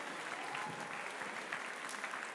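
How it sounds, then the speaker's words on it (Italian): Steady applause from a crowd at a police event at the Barcolana regatta, fairly faint and distant, continuous clapping without any voices standing out. "facciamo un applauso"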